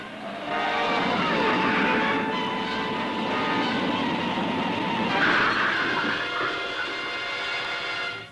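A cartoon spacecraft from the 1966 Space Ghost & Dino Boy series makes an emergency landing, giving a loud, sustained roaring rumble with a whining engine tone that holds steady for about eight seconds.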